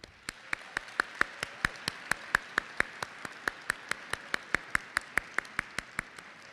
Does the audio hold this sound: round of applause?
yes